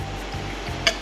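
A spoon stirring a thickening gel mixture in a pot, a brief soft scraping swirl over a steady sizzling bubble, ending in one sharper clink.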